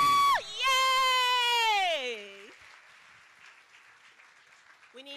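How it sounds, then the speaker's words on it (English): A loud whooping cheer rises and falls at a staff camp gathering, then a soft wash of clapping and crowd noise lingers in the background before another short shout. "let's give a big round of applause for our leadership team!"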